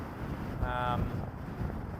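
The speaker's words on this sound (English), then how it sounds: "Currently set up where the winds are blowing extremely hard." Strong outdoor gusts of 40 to 60 km/h near a mountain wildfire batter the microphone, a constant loud low rumble and buffeting throughout, with a brief tonal sound partway through.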